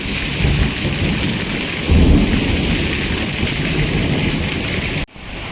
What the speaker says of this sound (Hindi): कितनी भयंकर बारिश आ रही है तेज हवाओं के साथ में।